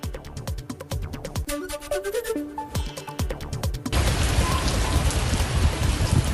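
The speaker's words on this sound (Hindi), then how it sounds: "राजधानी दिल्ली और आसपास के इलाकों में कल शाम से बारिश और बूंदाबांदी का दौर जारी है।" Steady rain and drizzle falling in Delhi, a dense continuous patter of drops on surfaces, loud and close, growing heavier and more even partway through.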